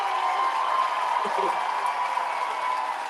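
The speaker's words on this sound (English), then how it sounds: "Give a big round of applause to Representative Talarico" Audience applause at a San Antonio town hall for Representative Talarico, a steady wash of clapping that holds evenly for the whole stretch without any speech over it.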